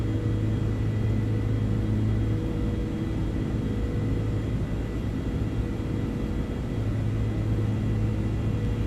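Steady, loud cockpit drone of an iniBuilds Airbus A330-200 climbing in Microsoft Flight Simulator 2024, a constant low engine rumble with a tonal hum, unbroken throughout.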